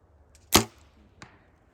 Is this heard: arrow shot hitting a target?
yes